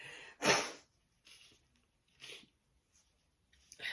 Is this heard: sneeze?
yes